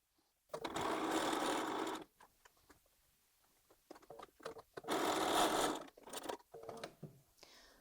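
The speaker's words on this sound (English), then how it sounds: "I'm just going over to the sewing machine" A sewing machine stitches pieces of spare quilting fabric in two fast, steady bursts of mechanical whirring, with quiet ticks and handling between the runs, close and clear.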